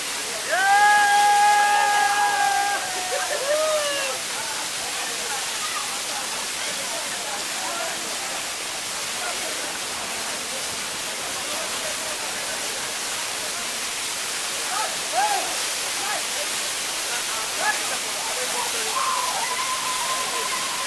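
A waterfall roars as a steady, loud wash of rushing water that fills the whole stretch. A voice is heard briefly at the start over the water.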